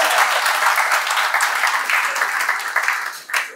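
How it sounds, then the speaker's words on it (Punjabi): Steady applause from a gathered audience at a welcome introduction in Pakistan, dense and continuous clapping that fades slightly near the end, fairly close and loud. "ਹੁਣ ਤੁਸੀਂ ਮੇਰੇ ਵਾਸਤੇ ਤਾਲੀਆਂ ਵਜਾਓ"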